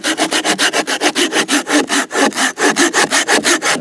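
A saw cuts through old, partly rotten wood in a forest in the Eifel, with quick, even back-and-forth strokes that are loud and close, broken by one short pause and then resuming alone.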